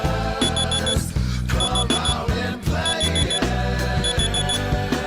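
An alarm clock rings in loud, repeated bursts of bright electronic beeping, grouped in regular pulses over a steady low background hum.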